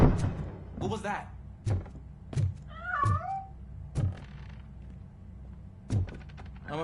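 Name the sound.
cat meowing in Robocop: Rogue City video game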